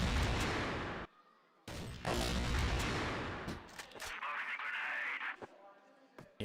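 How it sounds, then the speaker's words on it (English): Sniper rifle shots are traded back and forth during a CrossFire match at the 2023 CFS Grand Finals, with sharp bursts separated by brief silences under continuous excited commentary from casters. "insane shots back and forth between these two snipers"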